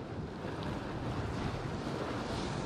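Choppy sea at dawn on the UK coast during bass fishing, a steady wash of small waves and rolling water heard close, with wind buffeting the microphone throughout and no voices.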